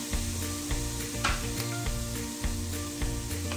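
Butter sizzles and fries in a hot pan while fried rice is being cooked with green onion and mustard greens, a steady crackling hiss with stirring scrapes throughout.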